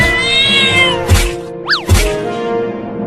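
A cat meows clearly and close, a long drawn-out call followed by a shorter rising and falling meow, with a couple of soft knocks between.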